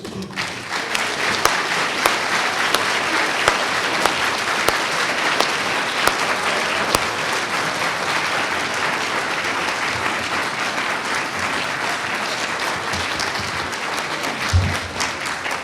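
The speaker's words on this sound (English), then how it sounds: "I'd ask the group to join me in a round of applause." Steady, loud applause from a graduation audience fills the hall without a break, a dense wash of clapping hands that holds its level from start to finish.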